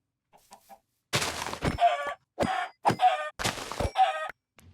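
Chickens in the Minecraft modpack All the Mods 9 cluck in several short, loud bursts close by, separated by brief gaps.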